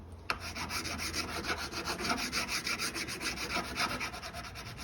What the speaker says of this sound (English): I've got another file which is much finer